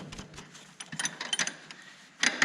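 Metal clicks and ratcheting taps while a nut is fitted onto a motorcycle's rear suspension linkage during a ride-height change, a few close, sharp bursts with a louder cluster at the end.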